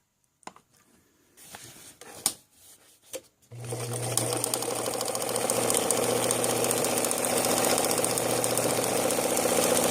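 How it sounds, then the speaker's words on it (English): A vintage Necchi sewing machine sews a buttonhole automatically: after a few light clicks and knocks, the motor starts and runs as a steady, loud, close mechanical whir with a rapid needle rhythm. "I'm pressing the microelectric switch to the left to engage automatic sewing right here."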